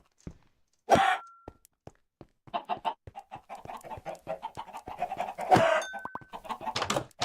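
Many Minecraft chickens clucking together in a crowded pen, a steady rapid patter of short clucks with two louder squawking bursts, close and clear, no talking.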